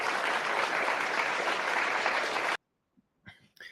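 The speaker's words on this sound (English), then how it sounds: "And these people are clapping, right?" Recorded audience applause, a dense steady wash of many hands clapping loudly for about two and a half seconds, then cutting off abruptly into near silence with a few faint noises after.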